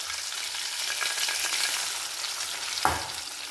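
Battered fish pieces deep-frying in hot oil for a second round, a steady close crackling sizzle throughout, with a brief louder splash-like burst near the end.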